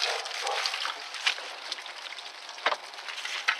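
Water flushes through the heater core of a Ford Expedition and splashes into a bucket, a steady close-up rushing hiss with a few brief louder spurts, with no talking.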